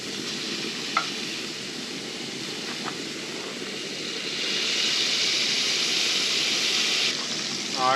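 Burgers frying in a pan during solo truck camping, a dense continuous sizzle that swells louder partway through as onions join, with a couple of faint clicks and a brief scrape near the end.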